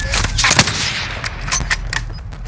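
Sniper rifle fire in a shooter video game: several sharp, loud shots crack in quick succession with a short echo, alone with no talk over them.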